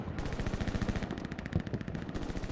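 Rapid machine-gun fire in a WW2 video game, a continuous stream of close, loud automatic shots with a few heavier bursts, no pauses across the stretch.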